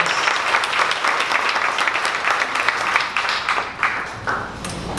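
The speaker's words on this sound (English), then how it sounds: "One more round of applause, please." Full round of audience applause at a Dallas startup pitch event, many hands clapping densely and loudly, then thinning slightly toward the end.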